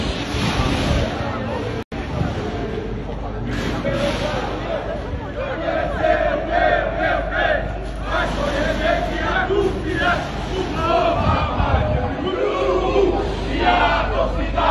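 A football crowd sings and chants outside the Boca Juniors stadium, La Bombonera in Argentina, with a dense, steady roar of many voices. A nearby voice talks over it.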